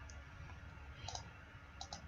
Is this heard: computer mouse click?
yes